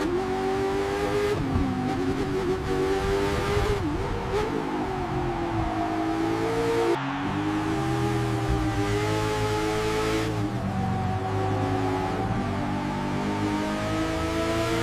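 Bugatti La Voiture Noire and Ducati Panigale racing flat out at Spa, a continuous loud high-pitched engine howl with shifting pitch as gears change and the vehicles pull ahead.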